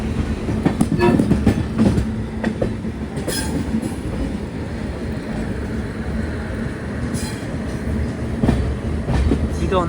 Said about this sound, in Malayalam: 1:30 ട്രെയിൻ ഇതാ വിജയവാഡ ജംഗ്ഷനിലേക്ക് എത്തുകയാണ്.